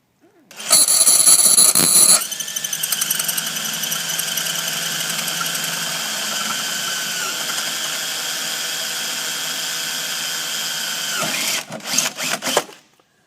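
A power drill whines loudly and steadily while boring pilot holes for a Polaris ProTector install, running continuously at high speed before spinning down and stopping with a few short bursts at the end.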